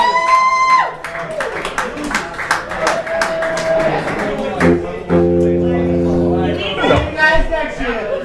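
Audience applause for a performer at a live music show, a burst of claps mixed with crowd chatter and a voice over a music bed, moderately loud and close.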